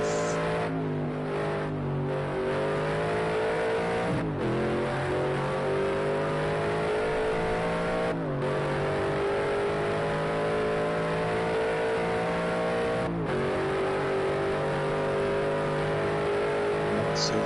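Race car lapping the Ruapuna Park circuit, a loud sustained engine note with rising pitch through the gears and sharp drops at each shift, heard up close under commentary.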